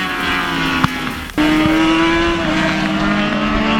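Yamaha R6 motorcycles race at the Talladega Grand Prix in a WERA event. Loud, close high-revving engine whine holds steady pitch, with a sharp jump in intensity partway through as a bike surges past.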